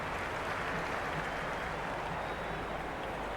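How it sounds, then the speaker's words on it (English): A raucous cricket crowd in a stadium at a Big Bash League match, a dense continuous roar of cheering and clapping at even volume throughout. "The crowd are really getting quite raucous. It's going to be difficult to focus down in the middle with this amount of noise."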